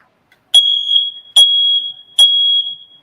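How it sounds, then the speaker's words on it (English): A fire alarm goes off indoors, loud and near, with three piercing high electronic beeps in a steady repeating pattern and short silences between them. "Oh, we got a fire alarm going on."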